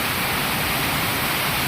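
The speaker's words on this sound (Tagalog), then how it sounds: "Lakas ng ulan, grabe." Heavy rain pours down during a thunderstorm with lightning, a dense, loud, unbroken roar of water with no pauses.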